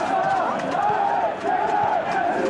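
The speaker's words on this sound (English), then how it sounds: "Crowd appreciates good football all round there." A football stadium crowd roars in a sustained, swelling cheer, dense and continuous with rising and falling waves, loud and distant, with no clear voices on top.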